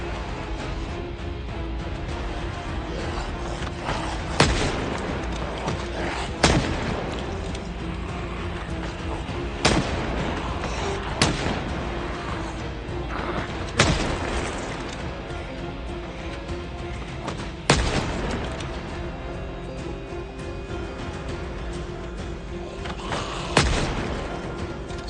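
Gunshots in the Project Zomboid video game ring out as sparse, sharp single blasts several seconds apart over a steady background hum.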